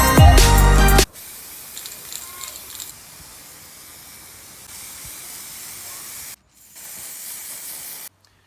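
A spray paint can hisses steadily for several seconds, pauses briefly, then resumes before cutting off, close and fairly loud after a short burst of music.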